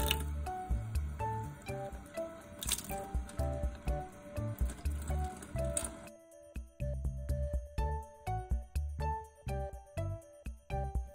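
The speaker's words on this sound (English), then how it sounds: "We're gonna rinse this off and see if they smell." Tap water rinses dried baking soda paste off metal jar lids and small plastic lids: a steady splashing rush for about six seconds, then scattered close clinks and taps as the lids are handled.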